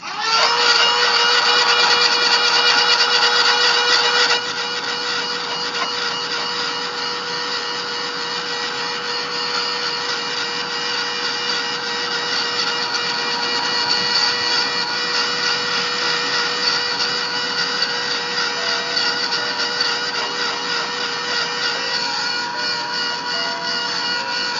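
A heat tool blows hot air over watercolour paper to dry it, making a loud, steady whooshing roar that stays constant throughout, slightly louder for the first few seconds.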